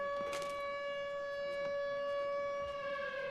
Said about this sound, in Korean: 큰 사이렌이 울리기 시작하죠.